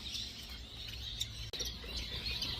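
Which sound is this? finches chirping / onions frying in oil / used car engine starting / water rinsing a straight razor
finches chirping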